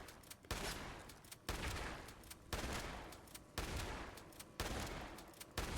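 Repeated pump shotgun blasts in a video game, a loud shot roughly every second, each followed by a brief pause for the pump action, with no talk over them.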